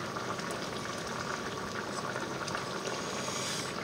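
Chicken simmering in a pan of coconut milk curry, a constant close bubbling and gentle liquid burble that holds steady throughout with no voices.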